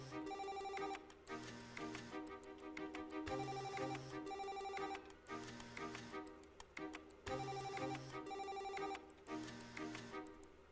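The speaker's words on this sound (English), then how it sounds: "I'm getting a phone call." A phone rings for an incoming call with a repeating melodic ringtone, playing in regular bursts with short pauses between them, quiet and alone with no talking.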